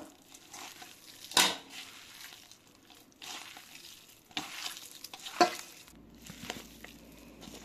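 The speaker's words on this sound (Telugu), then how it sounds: "నెయ్యి అన్నీ వేసుకొని ఇలా కలుపుతున్నాను." Ghee being mixed by hand into crushed rice rotis with pieces of jaggery, making soft squishing, rustling and pressing sounds with a few louder thumps and scrapes against the bowl, fairly quiet.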